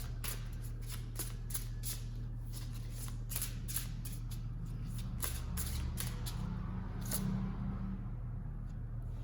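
Tarot cards are shuffled close by in a continuous run of quick riffling flutters and soft slaps. The card noise sits over a steady low background hum and holds an even pace.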